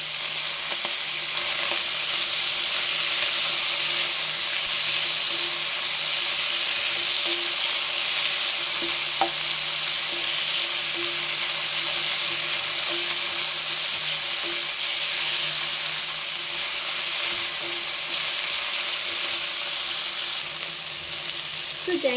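Sliced onion and tomato sizzle steadily in hot oil with ginger and lemongrass, a constant close frying hiss with occasional faint stirring clinks.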